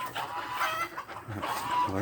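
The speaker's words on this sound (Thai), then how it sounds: "ในฟาร์มเรามีแม่ไก่ทั้งหมด ตกร้อยกว่าแม่นะครับ" Several hens cluck nearby in short, overlapping calls, a busy flock murmuring steadily with no one talking.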